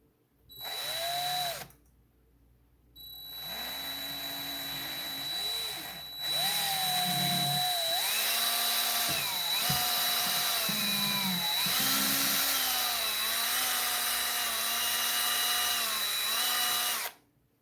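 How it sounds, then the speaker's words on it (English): A power drill bores through the legs of a teddy bear, its whine starting in short bursts and then running long and close, with the pitch rising and falling as the bit meets resistance. "now let's drill through the legs"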